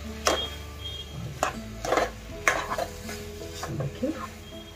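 A spoon stirs carrot halwa with raisins in a pan, giving soft scraping strokes roughly once a second with a faint sizzle underneath and no voice.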